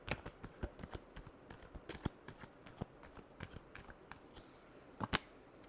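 Tarot cards being shuffled by hand, a faint run of quick, irregular riffling snaps and taps close by, with no talking.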